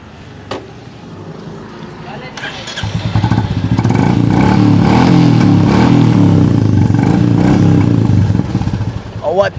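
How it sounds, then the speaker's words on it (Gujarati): A motorcycle fitted with an aftermarket exhaust starts up and revs loudly and steadily for several seconds, then drops back toward idle, with someone talking over the engine noise at the start. "એક્ઝોસ્ટ પણ નાખેલું છે, એ પણ સંભળાવી દઉં"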